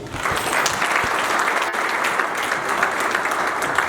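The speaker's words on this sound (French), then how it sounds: "je demanderai à la salle de l'applaudir." An audience in a hall breaks into sustained applause, thick rolling clapping from many people that holds a steady, fairly loud level from start to finish.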